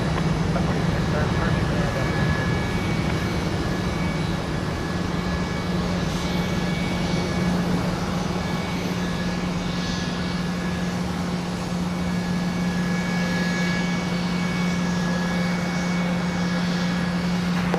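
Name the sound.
Delta jet airliner taking off at MSP airport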